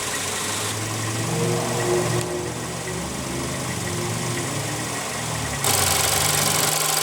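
A 2016 Volkswagen Golf SportWagen's 1.8-liter turbo four-cylinder engine idles steadily up close, a low even hum with a faint knocking texture that swells slightly louder near the end.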